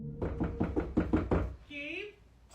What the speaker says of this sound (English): The uploader is standing near their front door, while loud banging sounds keep going non-stop.